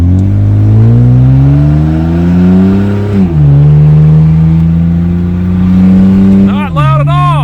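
Acura TL with a split exhaust accelerating through the gears, a loud, deep, droning exhaust note rising in pitch and dropping at a shift, with a brief higher whine near the end.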